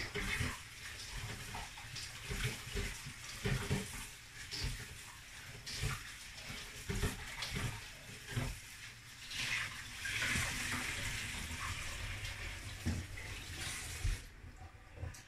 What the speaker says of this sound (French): on va le rincer